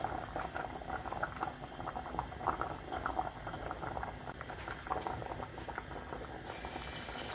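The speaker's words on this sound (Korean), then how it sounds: "이제 한 15분 정도 끓여주세요" Braised cutlassfish stew with sliced chili, green onion and onion simmering in a pot, a steady close bubbling and popping with light clinks, continuous and even throughout with no talk.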